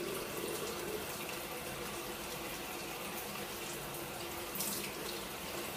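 Tap water runs steadily into a sink while a large makeup powder brush used for mineral powder is washed, a soft, continuous rushing hiss at low volume with a brief swell near the end.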